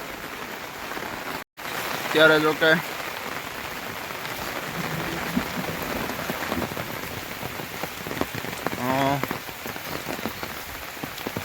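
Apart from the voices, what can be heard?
monsoon rain falling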